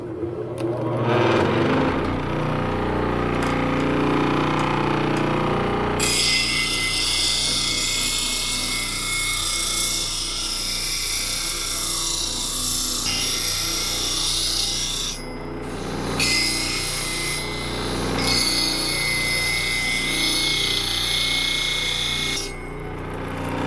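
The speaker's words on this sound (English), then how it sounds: "I'm now going to start up the grinder" Angle grinder started up and worked against metal held to a stone, a loud continuous whirring grind after a short spin-up, holding steady with a couple of brief dips where the wheel lifts off.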